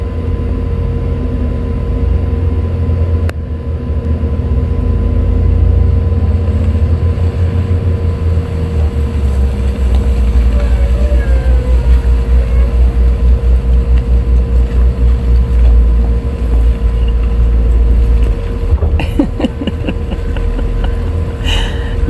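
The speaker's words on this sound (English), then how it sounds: "when you dry camp behind a rock quarry, this is what happens at 5 in the morning." Rock quarry machinery drones continuously nearby at 5 in the morning, a low steady rumble with occasional clanks and rattles, lasting throughout.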